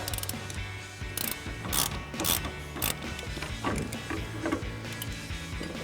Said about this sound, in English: So we'll break this nut loose. Crank that one off.